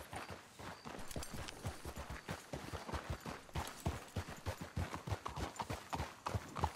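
A horse's hooves clip-clop in Red Dead Redemption 2, a steady, rhythmic walking gait of hollow thuds, moderately close and continuous with no talk over it.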